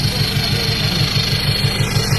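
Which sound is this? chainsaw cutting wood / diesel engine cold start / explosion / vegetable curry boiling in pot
diesel engine cold start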